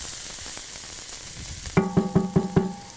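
Mushrooms frying in a hot pan give a steady bright sizzle, then a run of rhythmic scraping knocks as they are stirred, loud and close with no talking.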